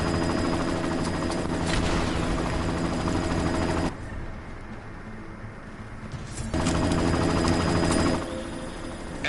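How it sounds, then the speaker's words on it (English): A helicopter from the Deus Ex video game drones loudly with a steady rotor chop, cuts out briefly in the middle, then returns at full strength before easing off near the end. "You've got to stop that chopper."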